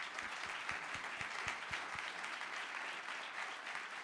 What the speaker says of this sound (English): how about a round of applause for our great guest?